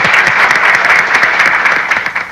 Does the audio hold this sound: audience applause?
yes